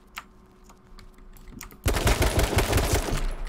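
Gunshots in the battle royale game H1Z1, starting with quiet scattered shots and faint clicks, then loud rapid automatic fire from about the two-second mark onward.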